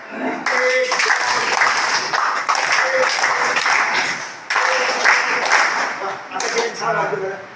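Audience applause at a community gathering of a support group for disabled, elderly and destitute people in Kinwat taluka, Maharashtra, with several bursts of clapping separated by brief pauses and voices mixed in.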